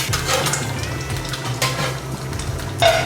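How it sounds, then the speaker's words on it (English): Eggs frying in leftover bacon fat in a pan, giving a steady crackling sizzle that runs throughout, with a few brighter spatters standing out near the end. "I have plenty of bacon fat still in here, so I'm gonna drop my next set of eggs right in here"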